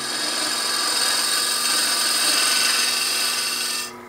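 A wooden goblet being hollowed out on a lathe, a steady, loud, continuous scraping hiss of the cutting tool against spinning wood that holds evenly, then drops off sharply near the end.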